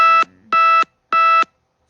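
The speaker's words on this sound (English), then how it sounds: "there's my alarms." An electronic alarm beeps three times in a steady pulse, each tone loud, close and sharply clipped, followed by silence.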